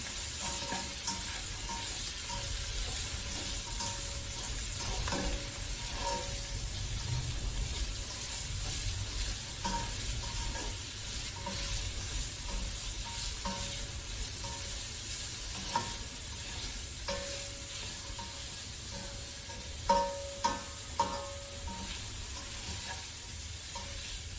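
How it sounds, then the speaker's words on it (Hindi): Carrots with red, orange and green bell peppers frying for vegetable rice give a continuous loud, close sizzle, with occasional spatula scrapes and light clinks near the end, no speech. "पहले इनको थोड़ा सा फ्राई कर लें।"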